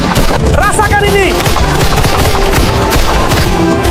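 Loud, rapid bursts of automatic gunfire with heavy booms, dense and continuous, mixed with shouted Indonesian voices in a chaotic AI-generated battle scene attacking a Dutch base.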